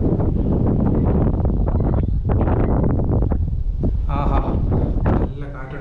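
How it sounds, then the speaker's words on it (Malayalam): Strong wind rushes at an old lighthouse in Kottayam, loud gusty rumbling battering the microphone for most of the stretch while a person talks, then easing off at the very end. "നല്ല കാറ്റുണ്ട്"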